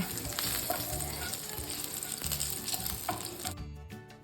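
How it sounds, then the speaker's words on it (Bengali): Cinnamon, a bay leaf, dried red chillies, cardamom and green chillies fry in hot oil with a dense, loud sizzle and stirring, which cuts off abruptly near the end. "দুটো কাঁচা লঙ্কা দিয়ে তেলের মধ্যে এটা একটু নাড়াচাড়া করে নেব"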